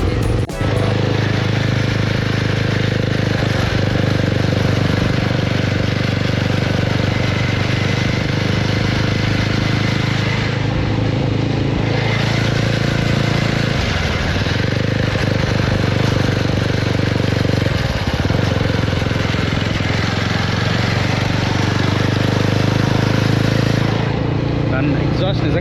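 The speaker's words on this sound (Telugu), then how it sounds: "ఎగ్జాస్ట్ నిజంగా చాలా బాగుంది. ఓవర్ సౌండ్ లేదు, ప్రాపర్ క్లాసిక్గా ఉంది ఎగ్జాస్ట్." A Jawa 42 FJ motorcycle's exhaust idles steadily and loudly nearby, a continuous low rumble that holds for the whole stretch while someone talks over it.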